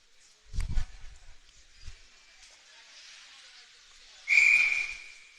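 At an ice hockey game between the Sharks and the Generals, a referee blows one sharp, loud whistle near the end, after soft arena murmur and a couple of dull thumps.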